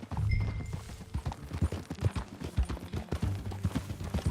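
Horse hooves clip-clop at a steady riding pace in Red Dead Redemption 2, a rhythmic run of close, moderately loud hoofbeats over a low ambient bed.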